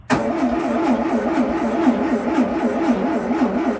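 A 1972 Volkswagen Beetle engine, parked for over 35 years, cranks over and over in a rapid, rhythmic whir from the starter on a weak battery, sounding sluggish and never catching.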